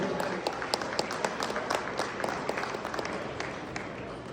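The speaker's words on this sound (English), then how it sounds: "Let me hear that large, huge round of applause for DJ." Attendees at a conference in Las Vegas applaud a speaker coming to the small stage, a crowd clapping steadily and fairly softly for a few seconds, the individual claps faintly distinct in the room.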